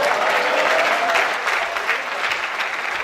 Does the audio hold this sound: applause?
yes